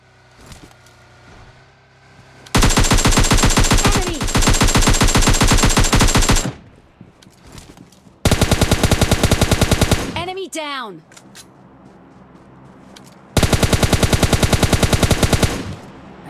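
Gunfire in the mobile battle royale game PUBG Mobile Lite comes as three long, loud bursts of rapid automatic fire, with brief quieter game sounds between the bursts.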